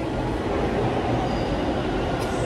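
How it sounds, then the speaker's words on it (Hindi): A metro train pulls into a station with a loud, steady low rumble of wheels and carriages that fills the whole stretch, and a faint squeal comes near the end. "ये हमारी मेट्रो आ चुकी है गाइस"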